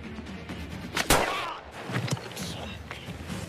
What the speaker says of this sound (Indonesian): Baru saja akan berlindung, tembakan kembali mengenai Arthur.